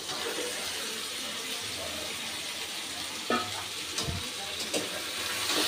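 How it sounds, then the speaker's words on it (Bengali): Fried koi fish drops into a pan of tomato masala, setting off a soft, steady sizzle with a few brief clatters and stirring knocks near the end, and no one speaks. "এবার আমি দিয়ে দিচ্ছি ভেজে রাখা কই মাছ"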